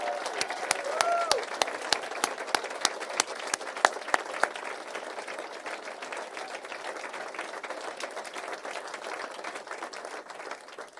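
Audience applause at a governor's signing of a housing bill, sustained even clapping from a sizable crowd that continues steadily for about ten seconds, with a few sharp individual claps standing out early on.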